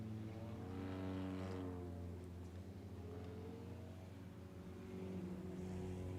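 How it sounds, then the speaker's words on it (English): 4-cylinder compact series race cars circle a speedway at night, engines droning steadily at a distance as the pack passes, with a constant harmonic hum rising and falling slightly. "Up on the track now, it's the 4-cylinder compact series."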